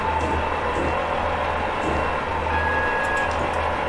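An AWS warning horn sounds in Train Simulator aboard a Class 143 commuter unit near Cardiff Central: a steady electronic tone cuts in partway through over a constant low engine and rail rumble.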